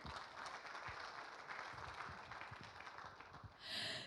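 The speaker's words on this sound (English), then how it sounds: "let us give the biggest round of applause for everyone here" A large audience at the opening ceremony of the Jakarta Investment Forum 2023 breaks into steady applause. The clapping keeps up a dense, even texture for about three and a half seconds and swells briefly louder near the end.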